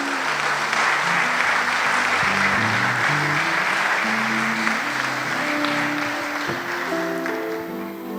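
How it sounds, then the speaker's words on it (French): Steady applause fills a church gathering as a woman is called forward before a baptism, a dense, continuous clapping held at full strength throughout with faint musical tones underneath. "Avec les applaudissements."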